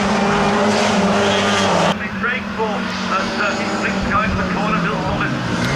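Pre-1966 Mini race cars lapping Brands Hatch circuit, a loud continuous engine roar that shifts pitch as cars pass, with commentary spoken over it.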